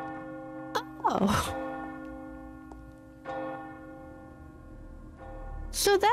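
Church bell tolling inside Resident Evil 4 Separate Ways, a few spaced, ringing strikes with long sustained overtones hanging over a steady game hum, loud near the start and end of the passage.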